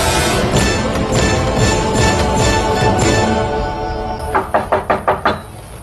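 Rapid knocks on a door, six or seven loud raps in a quick series near the end, following several seconds of dense, busy background noise.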